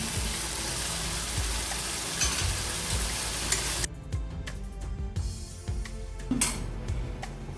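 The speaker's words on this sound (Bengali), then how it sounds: "এবার আগে থেকে তৈরি করা মশলাটা এবার ভালো করে একটু কষিয়ে নেব।" Prepared masala being sautéed in a pan, a loud continuous sizzle with stirring, then a quieter stretch of scraping and spoon clinks as the frying settles.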